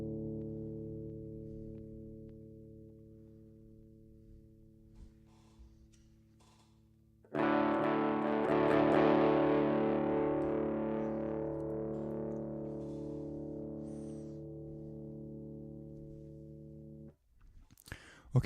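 Electric guitar played through an overdrive effect pedal: a sustained clean note rings, then a louder, gritty overdriven chord swells and slowly decays before cutting off.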